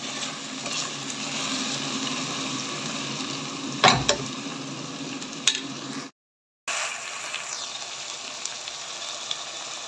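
Chicken and onion fry for a Constantine-style chtitha djaj while being stirred. A steady close sizzle holds throughout, broken by a couple of sharp utensil knocks and a brief full cut to silence partway through, then resumes unchanged.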